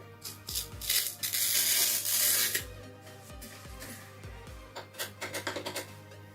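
Protective film being peeled off a new Zing 300 Pro thermal printer, giving a loud sustained rasping rip in two long pulls, then a string of shorter crackling tugs, with no voices.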